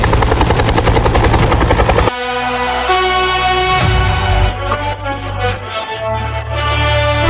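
A helicopter in an animated horror story roars with a loud, continuous rotor drone that shifts in tone partway through, with no talk.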